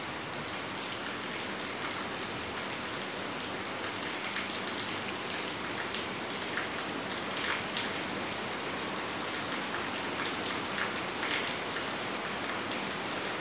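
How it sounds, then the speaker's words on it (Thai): Heavy rain pours steadily outside, a dense, continuous hiss of drops striking surfaces with no pauses, close and moderately loud throughout. "ฝนตกแรงมากเลยข้างนอก"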